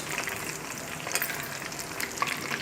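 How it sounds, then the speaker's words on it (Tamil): Mushrooms for mushroom 65 (kaalan fry) deep frying in hot oil, a steady, close, even sizzle with small bubbling pops throughout and no talking. "எண்ணெய் காஞ்சிருச்சு அதனால் நம்ம வச்சுருக்க மஷ்ரூமை வந்து நம்ம போட்டு பொறிச்சு எடுத்துக்கலாம்"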